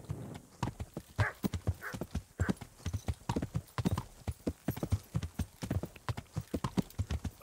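Horse hooves clip-clopping in a steady rhythmic gait while riding in the medieval video game Kingdom Come Deliverance, a long run of clear, close hoof strikes with no talk.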